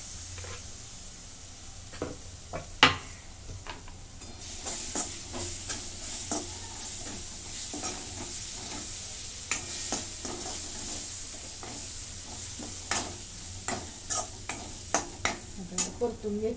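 Tomato frying with roasted besan (gram flour) in a pan, a soft steady sizzle broken by repeated scraping stirs of a spatula, close and fairly quiet with no talking.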